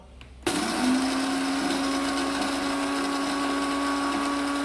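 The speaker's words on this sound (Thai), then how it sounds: "เสียงบดดังนะดังเหมือนกันนะ" A Werasu Buono coffee machine's grinder kicks in abruptly and whirs steadily and loudly grinding beans, a harsh continuous grinding with a faint high whine underneath.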